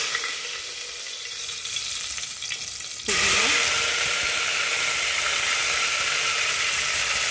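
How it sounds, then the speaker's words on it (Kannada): A tempering in a pressure cooker for mutton sambar starts to sizzle suddenly partway through: a loud, steady hiss that bursts in after a quieter stretch and holds, close and continuous, with no one talking. "ಈಗ ಒಗ್ಗರಣೆಗೆ ಸ್ಟವ್ ಮೇಲೆ ನಾನು ಕುಕ್ಕರ್ ಇಟ್ಟಿದ್ದೀನಿ"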